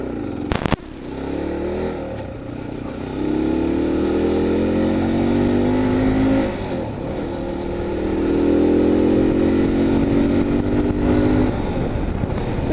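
A CSC RX-3 motorcycle engine while riding, a continuous loud drone that climbs and settles through gear changes, heard close with wind rumble throughout.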